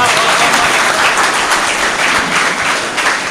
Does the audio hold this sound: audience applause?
yes